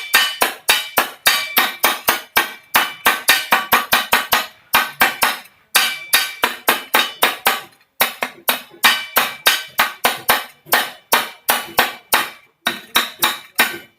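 A handle being hammered onto the body of a Hawkins pressure cooker: sharp metallic strikes in quick rhythmic bursts of several blows each, loud and close, with short pauses between runs.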